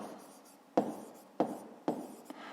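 Pen writing by hand on paper during a fifth-grade maths exercise, a soft steady scratching broken by three sharper taps as the pen lifts and lands, close and quiet.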